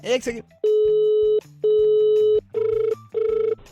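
A landline telephone call being placed: steady electronic ringback tones sound in long repeated bursts with short gaps, loud and close, after a brief voice at the start.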